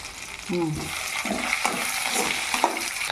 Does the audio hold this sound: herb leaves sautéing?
yes